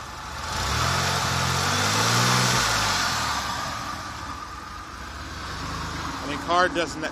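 A turbocharged car engine that once cut out from a boost leak runs close and loud, its revs climbing smoothly as it accelerates, then easing back to a steady hum, with a brief voice near the end.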